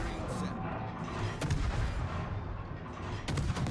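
Naval gun salvos from a warship's two-gun turret in the game World of Warships, heavy booming blasts rolling over continuous battle noise, with a voice talking underneath.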